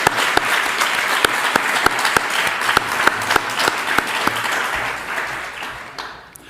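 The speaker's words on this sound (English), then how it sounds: "Leslie, I think you deserve a round of applause" Audience applause at a young science leaders forum in Wellington, a dense steady round of many hands clapping with a few sharp nearby claps, holding loud for about five seconds before fading away.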